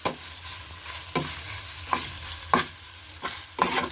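Small chicken pieces fry with onions in a pan, a constant sizzle broken by about six sharp scraping strokes of a spatula at an irregular pace, close by and without speech.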